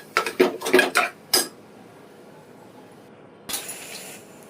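A metal spoon scrapes and clinks in a pan while a tomato mixture is stirred, several quick close bursts of clatter, then a pause and one more short scrape.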